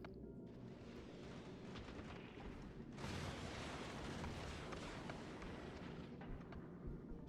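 Rocket turrets in Factorio fire in a dense, continuous barrage, a roaring wash of launches and blasts that thickens into an even louder sustained rumble partway through, with no talk.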